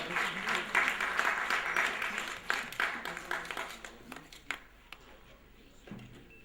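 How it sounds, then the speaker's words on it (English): An audience at an award function in New Delhi applauds with a burst of dense clapping that thins out and fades into scattered claps and a few knocks. "Let's give him a warm round of applause"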